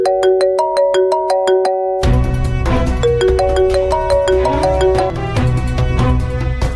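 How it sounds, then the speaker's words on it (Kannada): A mobile phone ringtone signals an incoming call in a Kannada TV serial: a loud melodic tone pattern plays alone, then continues over a rhythmic musical beat. "ರಾಹುಲ್ ಯಜಮಾನ್ರು ಫೋನ್ ಮಾಡಿದ್ರು"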